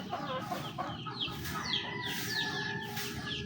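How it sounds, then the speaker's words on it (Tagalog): Chickens cluck near a house stairway where ducks and chickens wait to be fed, several overlapping clucks and squawks in irregular bursts at close range, with no one speaking. "Ang manok."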